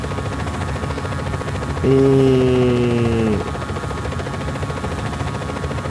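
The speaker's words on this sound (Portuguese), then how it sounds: "Estamos de helicóptero." A helicopter in the video game Just Cause 4 gives a steady droning rotor and engine hum that swells louder for about a second and a half mid-clip, over a constant background hiss.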